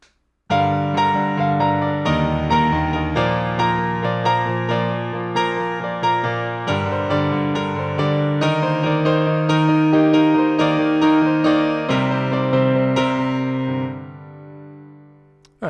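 Piano plays the next section of a song's riff, a busy repeating right-hand figure over full left-hand chords, loud and sustained for about fifteen seconds before ringing out.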